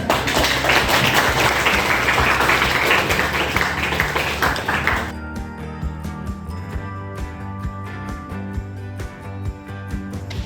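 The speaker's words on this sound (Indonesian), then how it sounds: "kita berikan aplaus terkait dengan keyakinan tadi" A classroom of students applauds together, a dense and loud clapping that lasts about five seconds before thinning to scattered, sparser claps.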